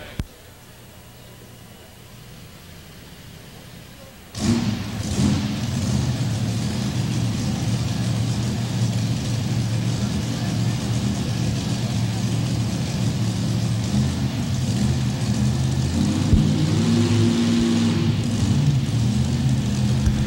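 A mini rod pulling tractor at a 1989 NFMS tractor pull in Louisville, Kentucky fires up after a quiet opening and revs into a loud, continuous roar that holds with fluctuating intensity.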